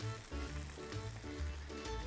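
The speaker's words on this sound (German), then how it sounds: "Das Wasser kocht." A pot of salted water for spaghetti boils on the stove, bubbling and sizzling in a busy, continuous churn close by, with no talk.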